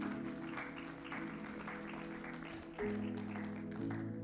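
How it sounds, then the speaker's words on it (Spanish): A church congregation claps their hands in praise, a soft, fairly distant patter of many hands under a sustained musical hum. "Así que dale palmas al Señor, hermano."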